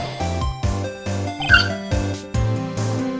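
Voice imitating shoes squeaking on a varnished wooden floor, a series of short, close, pitched squeaks and yelps repeated in a quick irregular rhythm.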